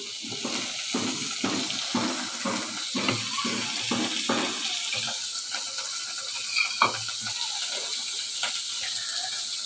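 Onion and tomato hit a little leftover oil with chilli in a pan, crackling steadily while a utensil stirs in repeated scraping strokes, close and continuous with no talking.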